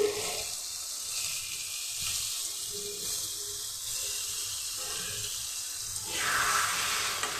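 Spice paste thinned with water goes into a hot pan for Bengali chickpea curry, giving a steady loud hiss and sizzle that swells near the end.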